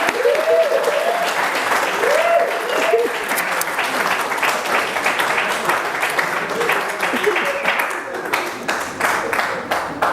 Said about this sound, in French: nous accueillons le SDP, votre honneur, nous allons acclamer